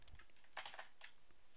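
A short burst of typing on a computer keyboard while entering HTML code, a few quick, soft, close key clicks over a faint background hum.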